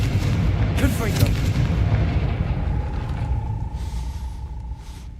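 A Confringo blasting spell explodes in the Hogwarts Legacy game, a loud booming burst with crackling debris at the start, then a rumbling tail and a thin sustained ringing tone as it fades.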